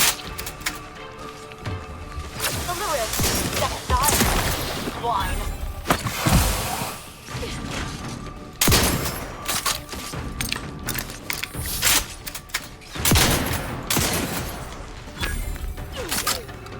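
Gunfire from the video game The Outer Worlds 2 cracks out in repeated bursts and single shots, mixed with mechanical clanks and impacts, while a player talks over the action.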